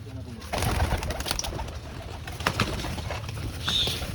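Pigeons coo in a bird market with dealers showing off their birds, soft repeated coos under a steady bustle of background noise and occasional wing flaps.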